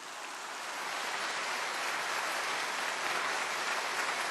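Enthusiastic applause from a church congregation greeting a pastor introduced at a special lecture, rising within the first second into a dense, steady patter of many clapping hands that continues without a break.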